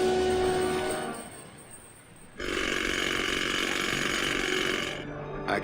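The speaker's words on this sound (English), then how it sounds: "let's see if we can break it with our superior chainsaw" A chainsaw in the remastered adventure game Grim Fandango roars loud and steady, cutting out at about two seconds and then returning with a harsh, buzzing drone before it tapers off.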